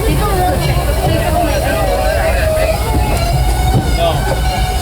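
Disneyland Railroad train running at Toontown Depot, a steady rumble of wheels and carriages with crowd murmur and loud continuous noise throughout.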